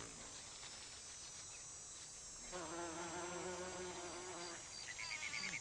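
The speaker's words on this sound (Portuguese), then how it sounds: "Apenas os mamangais têm o poder muscular de abrir a boca da flor e forçar sua entrada para pegar o néctar." A bumblebee buzzes close by at a narrow gentian flower, pushing its way in. The steady drone grows louder and more strongly tonal partway through and continues to the end, with no talk.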